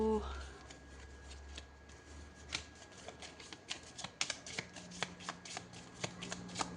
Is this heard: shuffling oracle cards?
yes